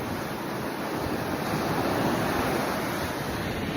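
A steady roar of sea surf on the beach at Chavakkad, Kerala, mixed with wind buffeting the microphone, continuous and fairly loud with no clear breaks.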